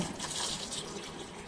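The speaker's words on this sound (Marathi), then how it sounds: "आता हे 3-4 पाण्याने धुवून घेऊया" Sago pearls are washed by hand in a bowl of water, with continuous close sloshing and swishing of water and grains and no talking.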